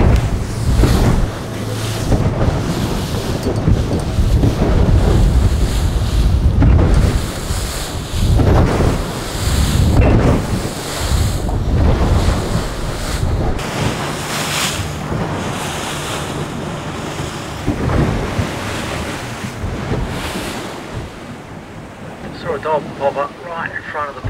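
Ocean waves and strong wind roar steadily around a boat heading out into the Pacific on a dolphin search, loud and continuous with gusty wind buffeting the microphone.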